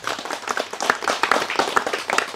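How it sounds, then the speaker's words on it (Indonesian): An audience at a religious lecture breaks into brisk, dense clapping for a couple of seconds. "Tepuk tangan untuk umat Nasrani."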